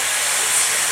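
Sentinel steam tractor, a historic forestry commercial vehicle on parade at a traction engine rally, giving off a steady, loud broadband hiss of escaping steam close by, with no talk over it.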